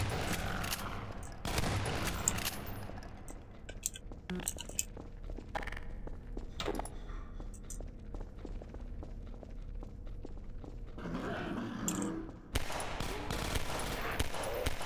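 Gunfire in Half-Life 2: Episode One as a zombie is shot, several sharp bursts and scattered shots spread over the stretch, with clinking debris and game ambience between them.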